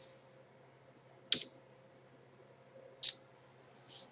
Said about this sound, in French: j'appuie sur la touche supprime